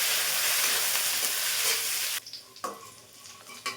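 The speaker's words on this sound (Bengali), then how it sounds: "এই পাশে বাদামটা ভাজা নিয়ে দিই" Peanuts and raisins frying in ghee sizzle loudly and steadily up close, then the hiss cuts off abruptly, leaving a few sharp scrapes and clinks of stirring in a pan.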